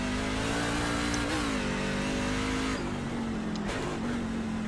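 Race car engine in NASCAR iRacing, a steady loud mid-pitched drone holding near-constant revs with slight dips and rises as the car runs the track alone.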